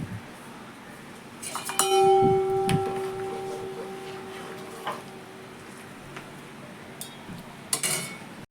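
Metal pots and steel dishes being scrubbed and rinsed at a home sink, with clinks and clatters, one ringing metallic clang near the start and scattered knocks later over a steady washing background, no voices.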